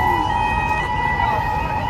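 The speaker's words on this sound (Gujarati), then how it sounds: "જો સાયરન વાગ્યો છે," An emergency siren wails near London Bridge, a loud, steady, high tone held throughout with little variation, close and dominant over faint background noise.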